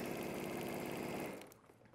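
A sewing machine stitches the neckline of a classic dress, a steady fast needle rhythm running loud and close for over a second before slowing and fading out.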